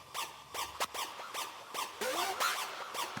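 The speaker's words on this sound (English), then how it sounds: "Another synth loop here, a screechy kind of effect." Screechy hardstyle synth loop effect, a faint repeating series of sharp squealing sweeps and pitch-bending chirps in a steady rhythm, with no voices.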